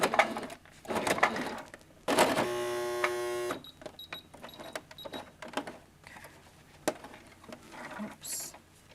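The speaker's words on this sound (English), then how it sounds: "then we can start sewing by pressing the pedal at the bottom" A sewing machine stitching the straps of a fabric bag, started with a foot pedal, runs in one steady mechanical buzz for about a second and a half amid handling clatter and short knocks.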